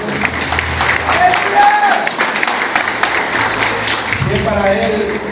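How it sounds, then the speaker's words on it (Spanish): A church congregation applauding loudly during a sermon, dense continuous clapping from a large crowd with voices and cheering mixed in, holding strong for several seconds. "fuerte aplauso a Dios."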